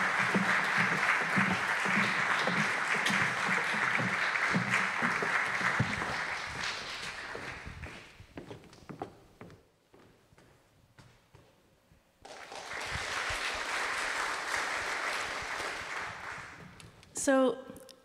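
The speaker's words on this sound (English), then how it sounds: "Let's invite the harp sirens with an applause, of course." An audience applauds at a lunchbreak contemporary music concert, welcoming a harp ensemble: dense, sustained clapping that thins out and stops, then a second full burst of applause follows after a brief lull.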